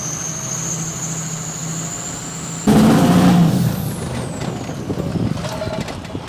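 A truck reverses with a steady high reversing beep and engine drone, then a loud sharp hiss of air brakes as it stops, followed by engine idle and a faint falling whine, close and loud.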